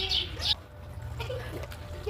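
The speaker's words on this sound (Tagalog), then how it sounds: "Daming ibon dito." Birds chirp outdoors in the dark, two short bright calls early on and fainter tweets later, moderately distant over a low background hum.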